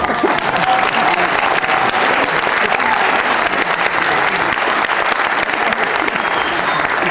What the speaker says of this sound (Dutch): applaus was nou